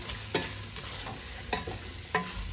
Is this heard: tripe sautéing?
yes